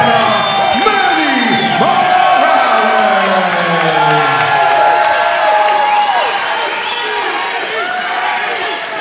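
A mixed martial arts crowd cheers and whoops for fighter Manny Morales at an Asylum 54 event, loud continuous roaring with shouts rising and falling, while an announcer's voice carries over it.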